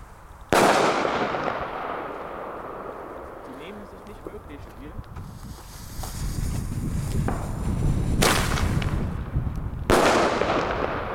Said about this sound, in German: Wir ziehen als erstes das Thunder King, dann als direkter Vergleich ein Flashbang